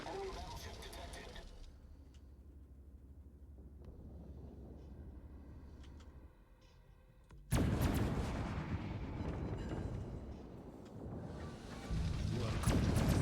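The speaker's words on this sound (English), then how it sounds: "We're going full broadside." A massive broadside of warship artillery in World of Warships booms out abruptly, loud and close, after a quieter stretch of rumbling ambience with talk; the roar lingers and swells again near the end.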